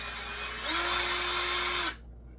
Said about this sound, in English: I do like my power tools